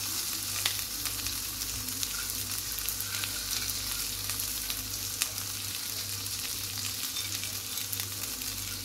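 Sea bream fish fries in a pan, producing a steady, close crackling sizzle with scattered sharp pops over a low, constant hum, without any speech.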